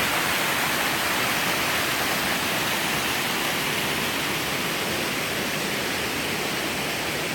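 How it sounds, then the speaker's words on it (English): Waterfall on the La Cloche Silhouette trail in Killarney Provincial Park, a steady, loud, broadband rush of falling water that fills the whole scene without pause, with no voices over it. "All right, here we are at the waterfall."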